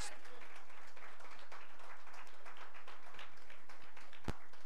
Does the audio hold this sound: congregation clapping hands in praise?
yes